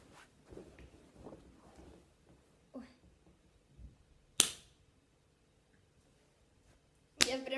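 A single sharp hand clap, loud and close, in a quiet room, with soft rustles and faint sounds around it.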